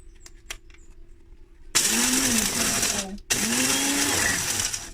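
A kitchen blender pulverizes dried eggshells in two loud whirring bursts, the motor briefly pausing between them, after a few small clicks and handling sounds.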